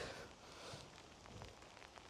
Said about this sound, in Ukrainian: за кадром не видно, але дощ так періщить